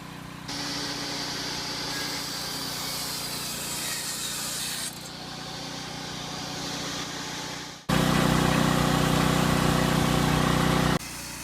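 A table saw cuts oak in a woodworking shop while a threshold is built. A steady, loud whine of the blade runs for several seconds, then the noise jumps to a harsher, louder roar for about three seconds before easing off.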